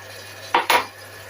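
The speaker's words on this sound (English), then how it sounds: "So I'm going to add our peppers. We've got the green, the red, and the yellow." Green, red and yellow peppers tipped into a pan, two quick close clattering scrapes in succession against otherwise quiet kitchen background.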